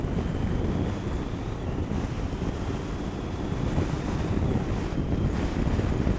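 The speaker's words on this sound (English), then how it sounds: "it's a little bit windy today, not the best" Strong wind buffets the microphone in a continuous low roar, rising and falling slightly without letup.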